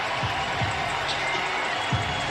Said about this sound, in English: it's a fired-up crowd now